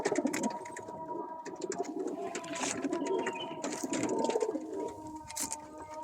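Domestic pigeons kept in a home loft coo softly and repeatedly nearby, low throaty calls overlapping with some rustling and faint bird chatter, no talking.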